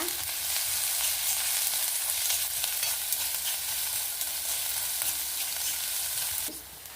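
Dried chili and curry leaves fry in hot oil for bassaru, giving a loud, continuous crackling sizzle with occasional stirring scrapes. The sizzle runs steadily, then eases slightly just before the end.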